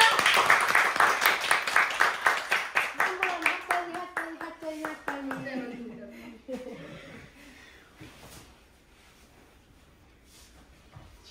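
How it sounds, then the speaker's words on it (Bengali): A small group claps in steady rhythm at a home musical evening in Dallas, the claps loud at first and then fading away over several seconds, with singing or voices underneath. "হাততালি হয়ে যাক।"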